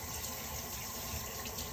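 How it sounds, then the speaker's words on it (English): Fingers rinsed under a running kitchen tap, a steady, close water rush that continues throughout without talk, after handling meat seasoned with Old Bay. "Wash my fingers out"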